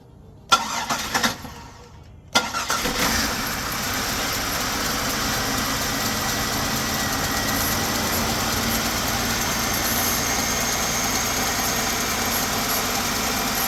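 A 2007 Buick Park Avenue Ultra engine cranks with a couple of short bursts, catches, and settles into a steady, even idle that runs alone and close for the rest of the stretch.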